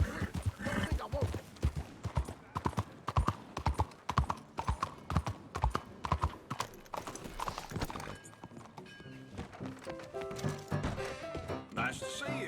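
A horse's hooves clip-clop at a fast, steady gallop in Red Dead Redemption 2, with a whinny and game music swelling underneath and voices talking over it.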